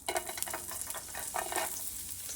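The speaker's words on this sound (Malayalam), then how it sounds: "ആ ഒലിവ് ഓയിൽ ആഡ് ചെയ്ത് കഴിഞ്ഞതിന് ശേഷം അതിലേക്ക് നമ്മൾ കട്ട് ചെയ്ത് വെച്ചിട്ടുള്ള ഗാർലിക്കും" Chopped garlic sizzling in olive oil in a pan, a dense steady crackle with brief sharper spatters and a faint stir, close and moderately loud with no talk.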